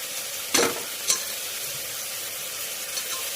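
Potato pieces sizzle in hot oil for a curry, a steady bright frying hiss with two sharper stirring scrapes near the start and a faint one later, with no talking.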